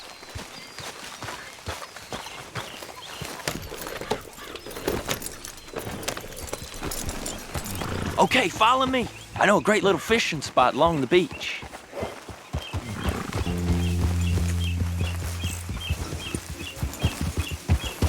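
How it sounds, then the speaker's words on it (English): Horse hooves clip-clop at a steady riding pace in the Red Dead Redemption 2 video game, with a voice talking over the hoofbeats for much of the stretch. "Grab your horse and let's go."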